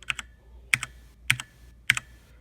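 Typing on an E-element Z88 mechanical keyboard with an aluminum faceplate, heard as four close clusters of clacky keystrokes, each followed by a faint metallic ting ringing under the clicks.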